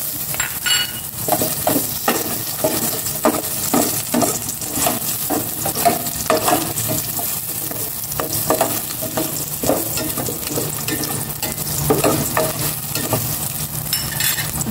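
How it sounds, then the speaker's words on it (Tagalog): Garlic and onion sautéing in a pan, a steady close sizzle with rhythmic scraping strokes of a utensil stirring throughout, no voices. "Igisa ko na bawang,"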